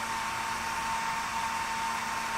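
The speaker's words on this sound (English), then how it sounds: "Suffer through my hairdryer ADR." A hair dryer blows steadily with a constant whine and broadband airy rush, running continuously and fairly close with no breaks.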